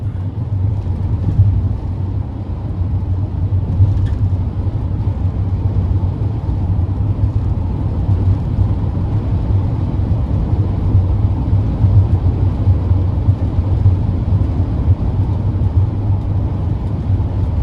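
A 2021 Ram Promaster 2500 conversion van accelerates, heard from inside as a steady, loud low engine drone and road rumble that holds throughout with no talking.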